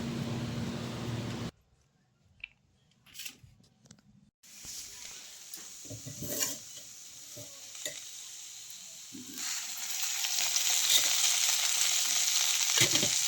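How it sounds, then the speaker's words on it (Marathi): Okra sizzles in hot oil in a kadai, with stirring noises. The frying cuts out briefly, then returns as a loud, steady hiss. "तेलामध्ये फ्राय करून घेतलं"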